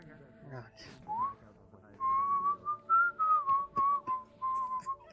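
Several people whistle tunefully in a gang roleplay game scene, a series of bright sustained and warbling whistled notes, close and fairly loud, with a brief stretch of talk near the start.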